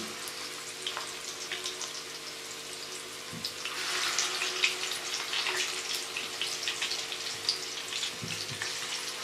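Beef kababs fry gently in a pan over a slow flame, giving a soft, continuous crackle and sputter that swells to a livelier sizzle midway, with a faint low hum behind it.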